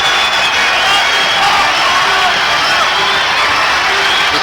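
A 1988 college basketball arena crowd, Bradley Braves home fans, roaring and cheering after a three-pointer, a dense continuous wash of voices, loud and sustained throughout.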